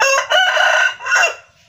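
A single rooster crows close and loud, a strained, drawn-out call with a brief dip in the middle before it fades away.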